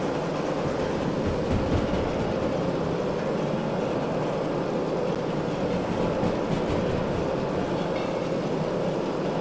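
Steady, dense rumbling of a train engine accelerating at speed in the game Derail Valley, a continuous broadband roar with no pauses and no voices.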